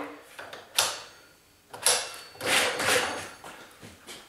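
Weight plates of a FitRx adjustable dumbbell being switched, heard as a few sharp, close clacks and knocks spaced irregularly, followed by a longer rattling clatter as the plates shift and settle.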